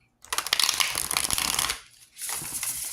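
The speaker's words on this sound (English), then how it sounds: "And I'm going to start shuffling now." Tarot cards being shuffled by hand up close, a dense riffling flutter lasting over a second, a brief pause, then a second softer run of shuffling.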